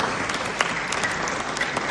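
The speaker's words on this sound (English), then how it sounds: "for being a fantastic audience tonight, once again, this is for you, ladies and gentlemen, a round of applause." An audience at a dance showcase claps in a brief, dense, even burst of applause, close and loud, with no voice over it.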